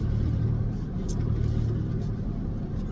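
A car engine drones steadily with deep low rumble while the vehicle drives down the road pulling a trailer, close and continuous for the whole stretch.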